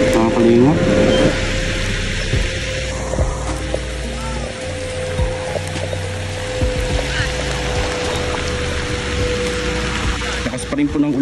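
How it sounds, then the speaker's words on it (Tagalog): Heavy rain pours down for a third straight day on a slippery road in a landslide area, a steady dense hiss filling the whole stretch, with a constant low hum running beneath it. "Lakas pa rin po ng ulan, pangatlong araw na po, nabuhos ng ulan dito."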